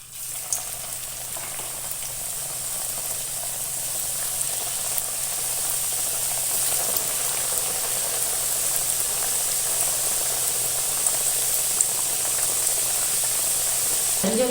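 Karjikai, sweet stuffed pastries, frying in hot oil: a steady, close, continuous sizzle and bubbling hiss that holds even throughout, with no voices.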